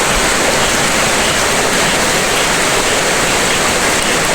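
A river's water rushes loudly and continuously at close range, a dense steady hiss and roar with no pauses.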